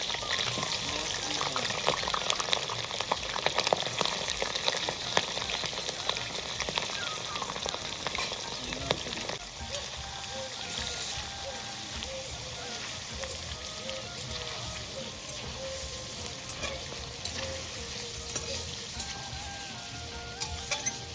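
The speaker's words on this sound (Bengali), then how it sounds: "তো এবার আমি চিকেনটা দিয়ে দেবো।" Chicken pieces frying in hot mustard oil in a kadai, a steady close sizzle and crackle that quiets slightly partway through as the meat settles, with faint clinks and no talking.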